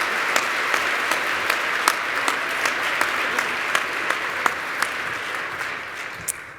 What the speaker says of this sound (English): So one last round of applause for all of our early career award winners.